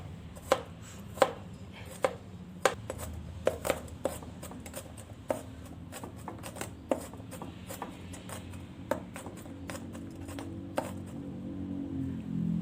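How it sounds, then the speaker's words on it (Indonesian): Garlic cloves are finely chopped with a knife on a board, a long run of sharp, close taps coming at an irregular pace over a faint background hum, with no talking. "bawang putihnya ini akan saya cincang halus"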